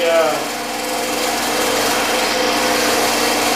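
A sander runs steadily and close by in a workshop, giving a continuous loud whirring buzz that holds level for several seconds with no speech over it.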